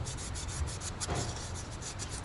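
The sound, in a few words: hand sanding a metal surface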